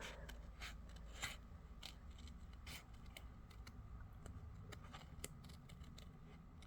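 Scissors snip through cardstock in a quick series of faint, crisp cuts, steady and close for several seconds with no voices.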